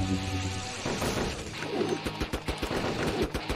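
A polar bear character shoots in a video game, with a dense, loud fusillade of rapid impacts and crashes that builds into rhythmic repeated blasts over a few seconds, no speech.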